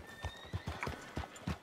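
A horse's hooves clop in a steady rhythm at close range, with a short whinny mixed in among the footfalls, in the video game Red Dead Redemption 2.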